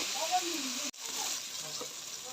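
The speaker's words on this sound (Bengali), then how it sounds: "টমাটো দিয়ে মশলাটা ভালো করে কষিয়ে নিব।" Spiced masala with tomato sizzles steadily in a pan, a continuous close frying hiss with a brief break partway through.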